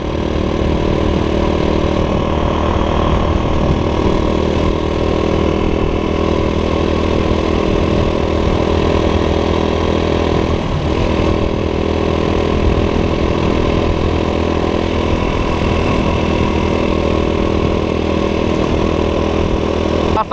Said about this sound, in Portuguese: eu pensei que a moto tinha dado um problema